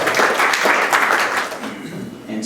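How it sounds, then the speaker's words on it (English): Church congregation clapping for an anonymous donor during a State of the Church service, a steady wash of many hands applauding at moderate loudness that thins slightly toward the end. "You can clap for someone who's anonymous."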